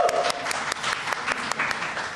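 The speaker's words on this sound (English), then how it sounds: "More applause." Audience applause at an art and community panel discussion, a steady dense patter of many hands clapping at close range, continuing evenly throughout without voices.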